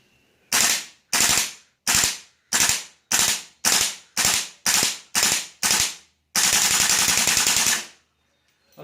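GHK M4 airsoft gun fitted with a steel bolt carrier firing on full auto: ten short sharp bursts in a steady rhythm, then one longer continuous burst, loud and close, with no talk.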